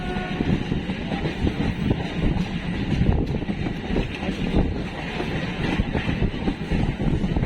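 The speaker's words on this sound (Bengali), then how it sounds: "আর ওপর থেকে মেট্রো চলে যাচ্ছে" A metro train rolling past on the elevated line above Baranagar station, a loud, steady rumble with rattling and wind noise that holds throughout without a break.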